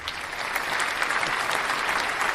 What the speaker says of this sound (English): Don't you have a clapping sound?